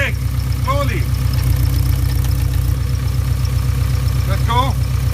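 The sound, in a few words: VW T3 Syncro transmission noise while decelerating or braking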